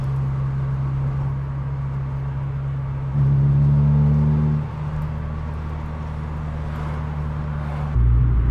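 A Honda Integra fitted with MaXpeedingrods coilovers drives along, heard from inside as a steady low engine drone with a humming tone that rises for a stretch midway, then settles and swells again at the end.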